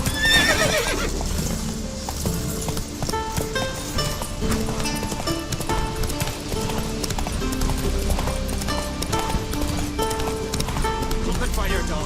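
Hooves of Roach, Geralt's horse in The Witcher 3: Wild Hunt, clip-clop steadily beneath a full game score, with a neigh or whinny breaking through as the horse moves along.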